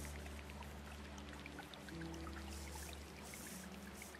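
Water flowing in the video game Terra Nil, a steady pouring and trickling stream with scattered droplet splashes over a low hum, moderately quiet, without talk.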